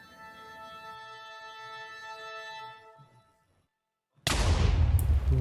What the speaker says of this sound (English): the cannon did fire precisely at the target